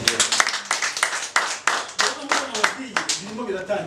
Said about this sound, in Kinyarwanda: Baduhera amashyi menshi.